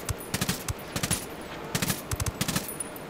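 Video-game gunfire: rapid automatic bursts of shots in short rhythmic clusters, loud and close, repeating across the whole stretch with no talking.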